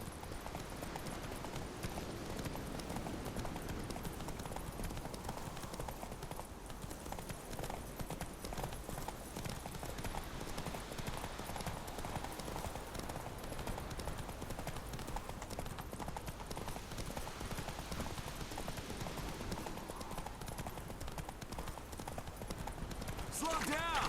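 Roach the horse gallops with steady, rapid hoofbeats throughout The Witcher 3, a continuous clip-clop carried under game ambience and occasional speech, with a brief whinny possible.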